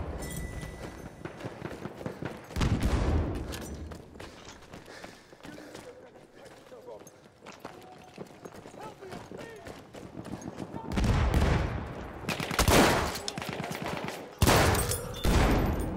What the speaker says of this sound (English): the shotgun is so much better than I keep thinking it's going to be